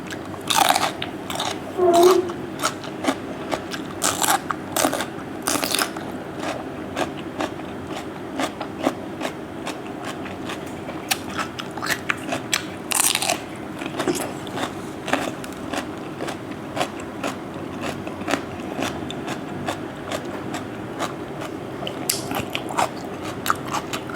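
Crispy fried pork rind crunches between teeth in repeated sharp bites, followed by close, wet chewing at an uneven rhythm, with a voice speaking softly now and then between mouthfuls.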